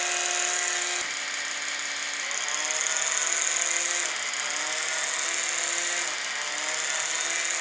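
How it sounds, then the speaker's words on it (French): A six-speed electric toothbrush buzzes steadily up close, its high whine shifting pitch a few times as speeds change, with no talking. "cette brosse à dents-là, elle a 6 vitesses."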